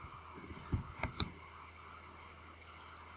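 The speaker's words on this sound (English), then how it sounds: "I don't know what I'm typing here." Keys clack on a computer keyboard in a brief scattered burst of louder taps, then a quick run of light clicks after a pause, close and quiet with no talking.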